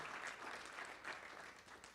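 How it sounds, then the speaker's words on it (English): A crowd at a Shreveport meet-and-greet applauds the local chamber of commerce leader, a continuous, fairly faint blur of many hands clapping heard at a distance. "Give him a round of applause."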